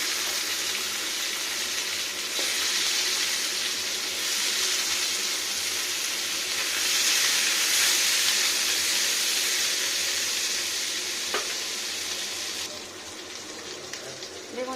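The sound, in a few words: cabbage frying in fish oil in a wok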